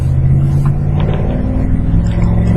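Gary's wood-gas powered truck cruises along a highway, its engine and road noise a loud, continuous low rumble close by with slight rises and dips in pitch.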